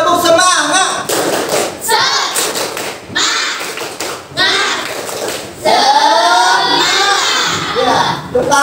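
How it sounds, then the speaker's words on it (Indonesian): A group in a school coaching session does a rhythmic spirit clap, with loud clustered claps and thumps interspersed with the group's chanted, shouted voices throughout. "coba tepuk semangat"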